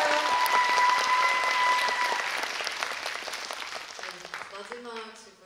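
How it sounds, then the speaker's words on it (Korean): Audience applause fills a packed three-level cinema hall at a Busan International Film Festival guest-visit screening of the film Broker, a dense loud wash of clapping that slowly thins toward the end, with voices over it. "여러분 큰 박수 부탁드려요."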